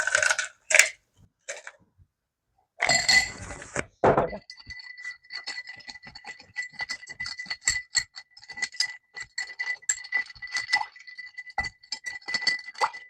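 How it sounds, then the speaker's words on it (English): Ice cubes dropped and rattled into a cocktail glass holding a Sherry Cobbler: a dense run of small, bright glassy clinks and ticks following a few louder knocks, close and fairly quiet, with no talking. "I'm going to put more ice in the glass."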